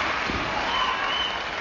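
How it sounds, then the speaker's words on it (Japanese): Scattered applause from a crowd in a wrestling arena in Osaka during a pro wrestling title bout, heard as a steady, moderate wash of clapping and crowd noise. "拍手が起こりました。"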